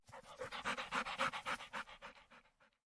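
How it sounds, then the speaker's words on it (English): A dog pants rapidly and rhythmically, a quick steady run of breathy huffs that slows and fades out after a few seconds; no distinct barks stand out. "One dog started barking."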